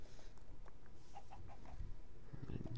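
Chicken clucking in a survival video game, a few short soft clucks scattered over a steady low background, fairly faint and without talk.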